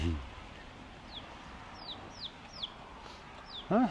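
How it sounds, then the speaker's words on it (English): Chickens and roosters at a park in Kaua'i cluck in short bursts with a few chirpy calls scattered through, fairly faint, one louder cluck at the end, over quiet outdoor background. "There is a massive amount of chickens out at this park. Roosters, hens."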